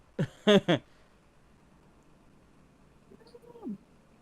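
A pet cat gives a soft meow close by. Three quick harmonic calls at the start are followed by a faint, drawn-out meow near the end, with quiet room noise between them.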